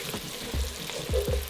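Cabbage, andouille sausage and garlic fry in hot bacon fat, giving a steady close sizzle with a few louder crackling bursts from stirring.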